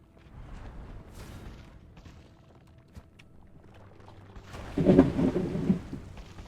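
Thunder in a PC game rumbles through steady rain, low and rolling, swelling into a louder crack and roll near the end with no talk.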